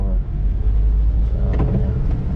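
A Suzuki Jimny 1.3 drives slowly in light rain, its engine a low, steady cabin rumble with road noise and no clear change in pace.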